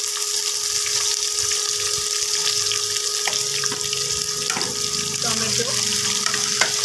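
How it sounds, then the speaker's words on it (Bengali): Chopped onion is added to hot oil in a pan after chicken has been fried, giving a steady hiss and sizzle with occasional stirring knocks, under faint background noise while cooking yogurt chicken. "তেল গরম হয়ে গেছে বন্ধুরা। চিকেনের মাংসটা ভেজে নিয়েছিলাম। এবার পেঁয়াজ কুচি দেবো"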